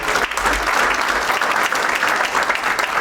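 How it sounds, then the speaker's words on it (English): A room full of people at a ceremony honoring a World War II veteran clap in a steady, sustained round of applause, moderately loud and even, with no speech over it. "I would like for you all to give them a nice round of applause"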